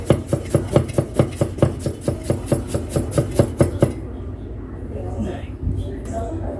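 Small knife chopping peeled ginger finely on a board for a sambal, a fast steady run of about twenty close, sharp knocks over four seconds, then stopping as a voice talks.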